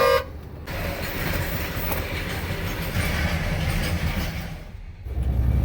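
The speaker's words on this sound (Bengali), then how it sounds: "লাইন ধরে খাড়া রয়েছি, রাত্রে ট্রেন আইতেছে" A train rolls past a railway level crossing at night in Dhubri district, a steady loud rumble of rail noise filling the scene close by, with a brief horn-like toot mixed in.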